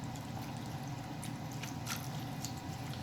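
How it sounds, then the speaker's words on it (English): Broth poured from a container over oxtails in a crock pot, a soft, steady liquid pour and trickle running throughout at low level, with no talking. "I just pour it all over."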